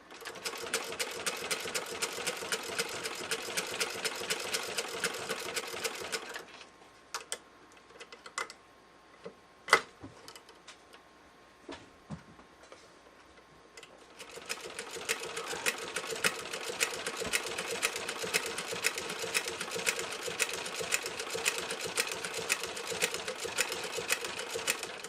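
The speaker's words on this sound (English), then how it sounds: "It took me a little bit longer to get the zigzag attachment to work with the Singer 15K80." A vintage Singer 15K80 straight-stitch sewing machine with a zigzag attachment runs in rapid, even stitching bursts, stops for several seconds of scattered clicks and knocks, then resumes its steady mechanical chatter.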